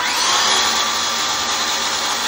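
A DeWalt DCS391 6 1/2-inch circular saw runs at full speed, a loud, steady, high-pitched whine that stays unbroken and close throughout.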